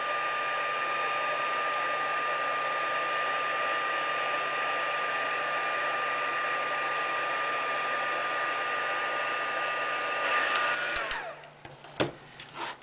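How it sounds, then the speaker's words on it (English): A heat gun on its highest setting melts white embossing powder with a steady, loud whooshing drone that holds for about eleven seconds, then clicks off into a few quiet handling knocks. "we'll use the heat gun to emboss it on the highest setting"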